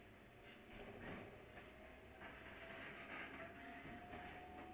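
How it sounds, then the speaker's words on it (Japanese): Inside a one-man local electric train on the Kinokuni Line between Kii-Tanabe and Shingū, a low steady rumble of the carriage moving off, heard close and even throughout. "まもなく発車いたします。"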